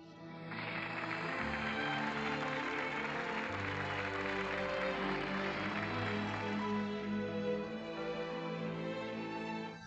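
A crowd in a hall gives sustained, even applause in honour of the host's wife, a steady wash of clapping that starts abruptly and carries on with no break for about nine seconds.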